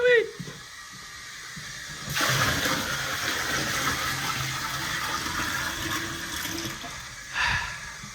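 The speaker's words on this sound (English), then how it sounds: "if you put a bucket down the toilet, it'll flush the loo for them" A toilet flushed by pouring a bucket of water into the bowl gives a sudden loud rush of water that gurgles steadily for several seconds, then ends with a final splash.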